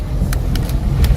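A car driving over potholed streets in Umoja after rain, heard as a low, steady engine rumble from inside the cabin, broken by a few sharp knocks and rattles.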